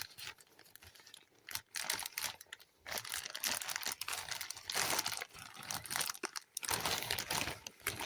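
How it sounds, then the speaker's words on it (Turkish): Close crinkling and snipping as scissors cut into plastic packaging, with rustling handling noises in uneven bursts. "Şöyle makasla açalım."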